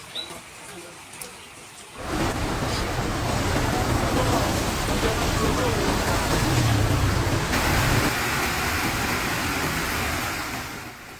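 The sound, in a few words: heavy rain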